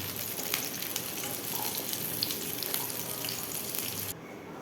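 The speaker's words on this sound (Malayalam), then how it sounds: "ഇതുകൂടി ഇട്ടിട്ട് നമുക്ക് വഴറ്റിയെടുക്കാം" Soft, steady sizzling of dried red chillies sautéing in a pan, with faint stirring scrapes, continuing evenly before cutting off near the end.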